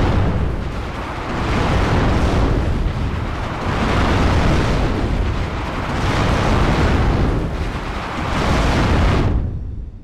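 Heavy artillery explosions in the WARNO real-time strategy game roll in as continuous deep, loud booms that swell and fade in several overlapping waves before cutting off near the end.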